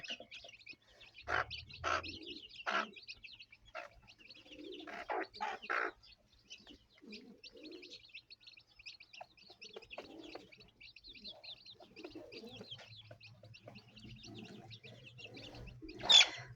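Pigeons coo softly among a flock of bantam chickens at feeding time, with scattered chirps and clucks over a steady background of bird calls, a few louder bursts standing out near the start and end.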